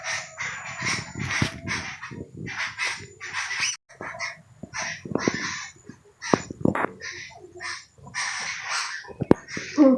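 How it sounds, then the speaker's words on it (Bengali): Crows cawing among chirping birds in a tree on a damp morning after rain, with dense, busy calls overlapping close by through the whole stretch. "খালি কিচিরমিচির শব্দ হচ্ছে শোনো।"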